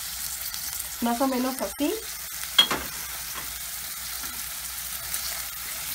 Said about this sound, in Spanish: Y ya se empieza a freír.